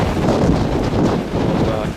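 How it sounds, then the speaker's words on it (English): Gusty wind buffets the microphone in heavy, rushing waves, loud and close for the whole short stretch. "It's very windy today"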